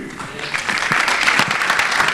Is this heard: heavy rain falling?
no